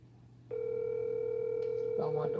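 A telephone call tone plays as a call goes unanswered, a steady electronic tone starting abruptly and holding for about two seconds, with a faint voice briefly underneath near the end.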